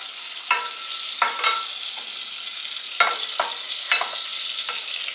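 An ingredient melts down in a hot pan with a steady bright sizzle, while a utensil scrapes and stirs in occasional sharp strokes, close up and with no voices.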